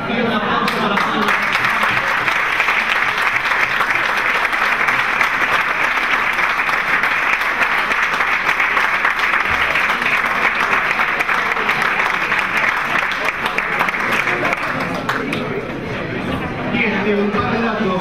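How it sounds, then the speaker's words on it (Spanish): Audience applause after a university panel on radio quality, a loud, sustained wash of clapping that holds steady for many seconds and thins slightly near the end. "Pido un aplauso para todos."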